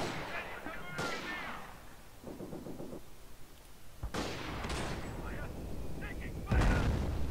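Mortar rounds and gunfire on a World War II battlefield in the video game Company of Heroes, with several booming impacts and bursts of firing spread across the scene, loud and close, mixed with other battle noise.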